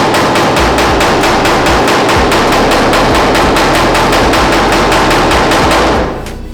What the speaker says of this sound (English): Then I'm going to take my pick hammer and I'm going to tap that area a little bit,